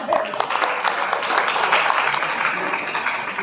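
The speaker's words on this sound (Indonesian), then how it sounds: "tepuk tangan untuk kita semua." An audience at an entrepreneurship training session in Rembang gives a short burst of dense, lively clapping, with some voices mixed in.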